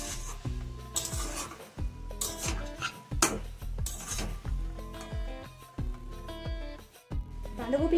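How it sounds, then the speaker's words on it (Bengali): Cabbage sabzi is stirred in a pan, with repeated scraping and metallic clinks from a spoon against the cookware, heard up close beneath a speaking voice. "আমরা কয়েক সেকেন্ড মতো বাঁধাকপিটাকে আরো ভালোভাবে মিশিয়ে নেব।"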